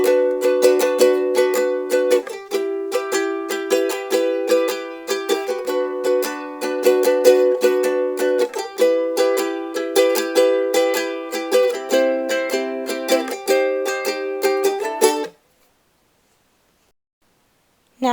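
Ukulele playing a song at tempo: bright strummed chords in a bouncy repeating rhythm for about fifteen seconds, then a sudden stop into silence.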